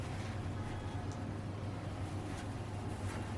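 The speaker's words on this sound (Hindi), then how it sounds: "बाइक की आवाज पे ध्यान ना दें" A motorbike engine runs outside, giving a steady low droning rumble that holds at an even level throughout, with some wind-like hiss above it and no talking.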